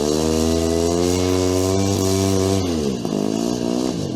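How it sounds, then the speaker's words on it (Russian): Tractor engine running while it pulls a plough in a village vegetable garden, a loud, steady droning idle whose pitch sags and wavers near the end, running alone without any talk. "Двигатель что-то не очень хорошо фурчит."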